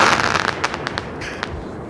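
Backyard fireworks go off in Missouri, a dense run of crackles and sharp pops over a steady hiss, fairly close and loud, with no talking.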